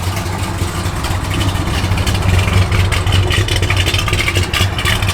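Close, steady idle of a 1968 Plymouth Road Runner engine, a continuous loud lumpy rumble with a slight pulsing rhythm and no speech over it.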